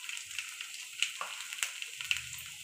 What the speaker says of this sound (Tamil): எண்ணெய் நல்லா காஞ்சிடுச்சு இப்போ வடகம் போட்டுக்கலாம்